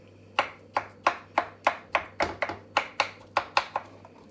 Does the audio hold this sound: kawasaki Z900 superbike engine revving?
no